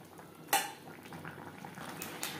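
Bottle gourd stirred in a pan with its own released water, a sharp metallic clank of a utensil against the pan, then soft scraping and bubbling, quiet and close, with no talking.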